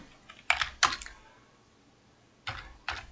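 A few bursts of keystrokes on a computer keyboard, clustered in two short groups separated by a quiet gap, close and fairly crisp with no talking.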